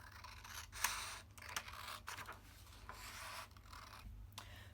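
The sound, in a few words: scissors cutting out a paper sewing pattern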